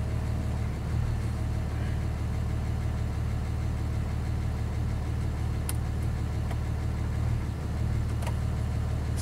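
Ram pickup truck engine idling nearby with a steady low rumble and even throb, some faint clicks and rattles on top, no talking.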